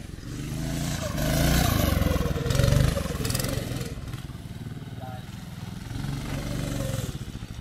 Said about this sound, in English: Doesn't his car sound like a bubble boat from SpongeBob?